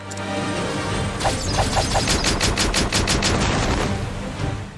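Rapid volley of gunfire from a firing squad in the Octopath Traveler game, a dense run of sharp repeated shots over a steady rumbling background, loud and close with no talking.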